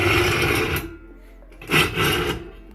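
The bearings of a homemade jet engine spin with a close, raspy whirring that runs for under a second, then two more short spinning bursts follow after a pause.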